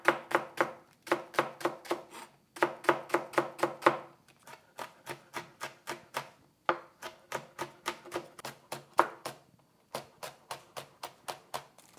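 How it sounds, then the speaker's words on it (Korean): A knife chops green onion, hot green chilies and red chili peppers on a cutting board, crisp rhythmic taps in quick runs of several strokes with short pauses between, close and clean with no voices. "파 1대, 땡초 5개, 빨간 고추 2개 이렇게 양념으로 총총 썰겠습니다."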